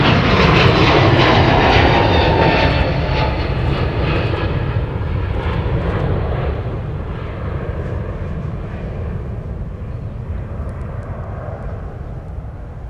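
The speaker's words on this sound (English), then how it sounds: "We got a 321 Neo departing." An Airbus A321neo jet takes off from runway 30 at Minneapolis–St. Paul airport. Its engine roar is loud at first, then slowly fades and thins as the plane climbs away.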